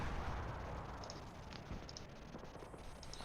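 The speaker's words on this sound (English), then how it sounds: "Oh, there's the mortars." Mortar explosions in a war video game: a faint, distant series of muffled booms and thuds rolling in the background, with a few sharper pops scattered throughout and no voices.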